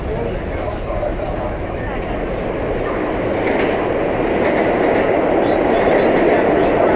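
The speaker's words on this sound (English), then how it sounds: "It's hard to believe those cars are over 40 years old already." An NYC A train of R46 subway cars, over 40 years old, rumbles nearby with a dense, building roar and rattle, while people talk over it.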